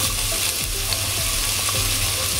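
Two finely chopped onions fry in a hot pan for beef kabiri rice, giving a steady, close crackling sizzle with occasional stirring scrapes and no talk.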